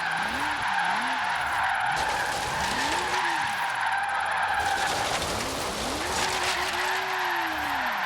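A car with rally drift suspension slides through corners in Forza Horizon 3, its engine note rising and falling in long sweeping pitch bends while tires squeal steadily over a loud, continuous racing game mix.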